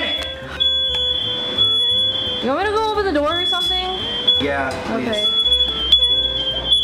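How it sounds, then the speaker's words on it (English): A smoke alarm goes off during home cooking of a vegan vodka sauce with soy milk, a steady high-pitched beeping tone running nearly unbroken through the kitchen while people talk back and forth over it. "the fire alarm came on for some reason"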